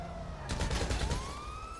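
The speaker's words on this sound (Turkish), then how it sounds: "Police officers are en route to your current location." A wailing police siren in GTA 5 Online sweeps up and down under a brief rattling burst of automatic gunfire, fairly faint and distant, with no talk.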